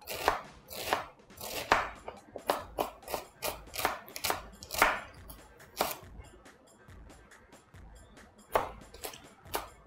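A knife chops an onion on a board in quick, crisp, irregular strokes, close and moderately loud.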